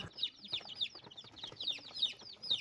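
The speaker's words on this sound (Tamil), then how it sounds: "கோழி குஞ்சுங்கெல்லாம் உள்ள ஜாலியாக விளையாடுறாங்க." Native chicken chicks in a coop peep in a quick, continuous stream of high, thin cheeps, several birds chirping over one another at close range.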